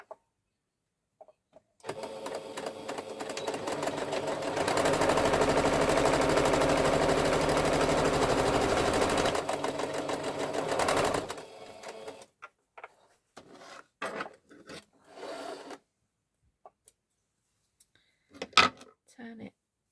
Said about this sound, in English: So I'm going to basically sew a straight line,